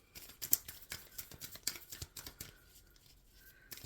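Tarot cards are shuffled close up in a series of quick riffles and soft slaps, irregular bursts with brief pauses between.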